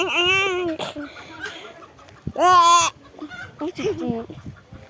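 A chicken gives loud, nasal clucks and a drawn-out squawk close by, in uneven bursts, with people talking and laughing around it.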